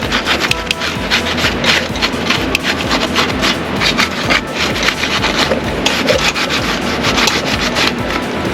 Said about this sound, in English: So I'm taking the sponge and going around it to that part right here